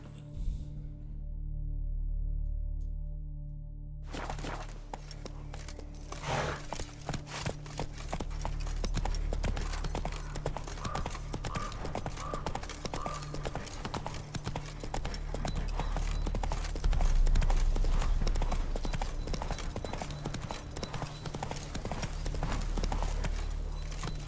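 Roach, a horse in The Witcher 3, gallops with dense, steady clip-clop hoofbeats that start abruptly after a quiet opening and keep up a continuous rhythm to the end.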